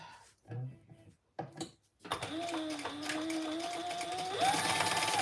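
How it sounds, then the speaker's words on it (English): Sewing machine basting pockets on a garment, starting after a couple of short handling noises and then running in a steady, continuous whir up close. "now we're just going to baste them all the way around"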